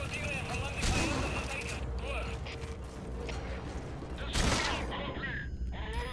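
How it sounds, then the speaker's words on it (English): Gunfire aimed at the player in Metal Gear Solid V: The Phantom Pain, a dense mechanical rattle of shots and clanks running throughout over game noise, with a louder burst near the end. "Who's shooting me?"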